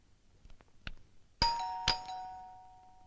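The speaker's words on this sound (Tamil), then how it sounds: "காலிங் பெல் அடிக்குது யாருன்னு பாரு" A doorbell rings with a two-tone ding-dong, bright chimes that ring out and fade, preceded by a few faint clicks.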